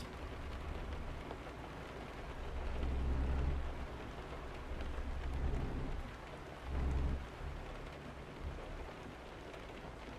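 Steady rain patters with low rumbles of thunder swelling and fading in the video game Euro Truck Simulator 2, no voices.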